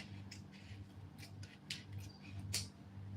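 Scissors cut through fabric for a budget wedding dress, a series of soft, close snips and swishes repeating irregularly over a faint background hum.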